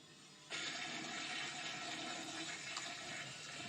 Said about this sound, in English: You are officially flushed.